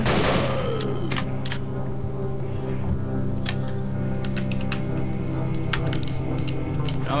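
Gunfire rings out while zombies are shot in a scary video game, with rapid bursts of sharp cracks and shots over a droning game background, a voice briefly talking at the start.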